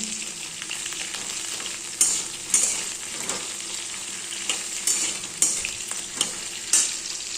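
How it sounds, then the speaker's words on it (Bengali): Cauliflower frying in a pan, a steady sizzle with repeated scraping and stirring clatters every second or so, close and fairly loud, no talking. "ফুলকপিগুলো ভালো করে ভেজে নিচ্ছি"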